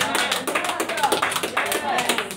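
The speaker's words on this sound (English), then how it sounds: "That makes you all applaud." An audience at a Christian sermon claps in brisk, even rhythm, with a voice talking over the applause throughout.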